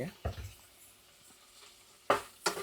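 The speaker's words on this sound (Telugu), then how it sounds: "దీనిలో ఒక రవ్వ ధనియాల పొడి, ఒక రవ్వ గరం మసాలా బాగా వేగాలి" Chili powder, coriander powder and garam masala fry in a pan for a Rayalaseema-style fish stew, with a faint low sizzle and a few short scraping stirs.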